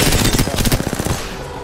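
Rapid burst of shotgun and gunfire in a competitive shooter video game, loud and close, a quick string of blasts that tapers off within about a second.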